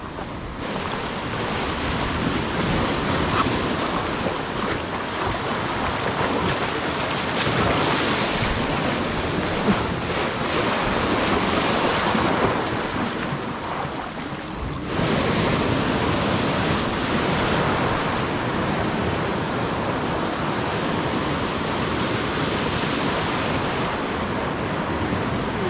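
Large sea waves surge and wash against an island shore with rising tide, a steady, loud roar of surf mixed with gusty wind buffeting the microphone, continuous throughout with a brief dip partway.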